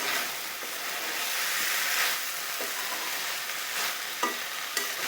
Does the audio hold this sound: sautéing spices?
yes